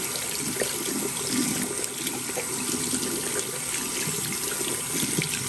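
Warm tap water runs steadily to rinse a dental splint, making a close, even rushing flow that lasts the whole time with no talk.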